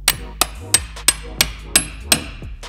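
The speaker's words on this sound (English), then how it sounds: "So I got a hammer, and I've got the tool, and I'm getting ready to just whack it into the side of this oil filter." A hammer drives a tool into the side of an oil filter in a shop, with seven sharp metallic strikes at a steady, evenly spaced rhythm, loud and close with no speech.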